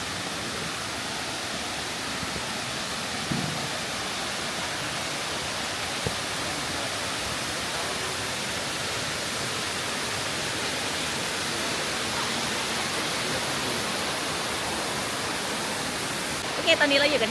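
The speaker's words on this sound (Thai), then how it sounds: "นั่นแหละครับน้ำตกแม่กำปอง" Mae Kampong waterfall, in a cool valley village, pours with a constant broadband rush that stays even and fairly loud for the whole stretch, with only a brief bump near the end.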